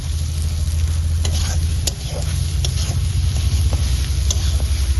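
Steady, close sizzling of chicken frying in a pan, with a constant crackle and occasional stirring scrapes; no voices.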